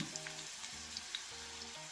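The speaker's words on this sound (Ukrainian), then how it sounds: "На розігрітій олії смажимо на середньому вогні" Steady sizzling of cabbage cutlets frying in hot oil over medium heat, a soft continuous crackle with a faint hum underneath.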